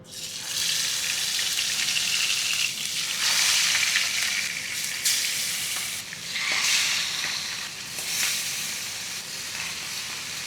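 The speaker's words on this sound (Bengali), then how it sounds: "আমি ইলিশ ভাজাটা বসিয়ে দিয়েছি" Hilsa fish frying lightly in oil in a kitchen, a steady broadband sizzle lasting throughout with swelling bursts of crackle, close and fairly loud, with no voices.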